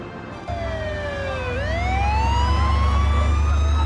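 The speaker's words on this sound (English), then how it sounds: "they awake to sounds of sirens" A wailing emergency siren sweeps down then rises again over a low rumbling engine, loud and close, with no voices, at the 1980 MGM Grand hotel fire.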